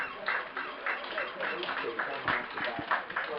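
Steady crowd applause at an Essex v Warwickshire county cricket match as the batsmen walk back out, a spread of scattered claps with talk running over it throughout.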